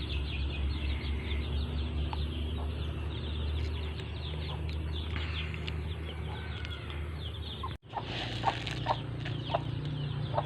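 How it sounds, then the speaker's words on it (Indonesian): Free-range village chickens cluck at afternoon feeding time in a rural yard, with scattered nearby clucks, soft scratching and a brief wing flap over a low background hum. "Sore hari ini lagi ngasih makan ayam, saudaraku."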